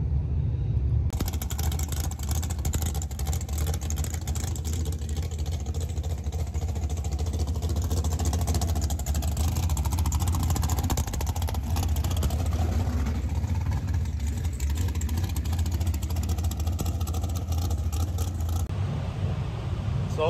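A drag racing car rumbles steadily through a time trial at a Route 66-style dragway, a loud, sustained low engine drone with broadband roar that holds for about twenty seconds.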